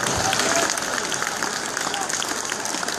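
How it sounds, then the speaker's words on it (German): Audience applause after a fast-paced show at a shopping centre, a steady wash of clapping from a crowd, loud and even throughout, with some voices mixed in. "Applaus für eure rasante Show."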